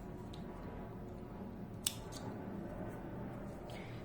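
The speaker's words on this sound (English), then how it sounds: "Now we can cut the yarn." A single quick snip of scissors cutting yarn during chain-stitch embroidery on crochet work, fairly faint and close, alone in an otherwise quiet room.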